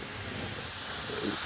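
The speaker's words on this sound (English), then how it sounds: "So I call this, this is a touch-up gun." A touch-up spray gun spraying blue lacquer for furniture refinishing gives a steady, close, broadband hiss that stays even and unbroken throughout, with no talking.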